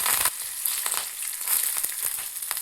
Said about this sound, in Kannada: ಕೊನೆಯಲ್ಲಿ ಕರಿಬೇವನ್ನು ಹಾಕ್ಕೊಳ್ಳೋಣ.